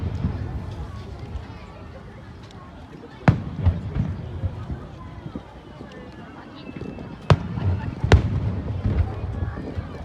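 A fireworks display in Urayasu, Japan, with several sharp distant bangs over a steady outdoor crowd murmur, while people nearby talk excitedly.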